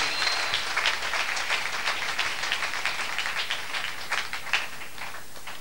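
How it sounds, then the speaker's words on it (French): A church congregation bursts into sustained applause, dense steady clapping that fills the room for several seconds with no voices above it. "Est-ce que nous pouvons acclamer pour la parole de Dieu?"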